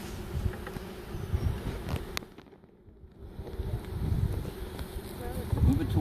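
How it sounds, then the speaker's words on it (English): Honeybees swarm around a hive while a swarm is being installed, giving a dense, steady buzzing close by that dips briefly in the middle before swelling again, with some handling noise underneath. "giving the bees time to get out of the way"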